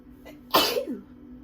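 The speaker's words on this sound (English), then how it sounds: "I feel like a sneeze is coming on." A single sudden sneeze from a person sick with flu, one sharp explosive burst preceded by a short intake of breath, close and clear with quiet around it.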